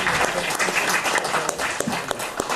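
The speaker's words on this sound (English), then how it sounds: "A round of applause" A round of applause at an official treaty signing ceremony, a crowd of people clapping steadily and close, with individual sharp claps popping through the dense wash.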